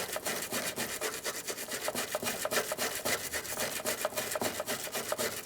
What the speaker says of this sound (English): I'm just going to take a wire brush, and I'm really going to clean up that area